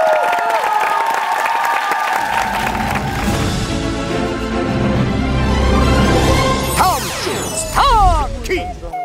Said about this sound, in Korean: 채소 소믈리에 김홍경 씨에게 여러분들의 큰 박수가 필요합니다.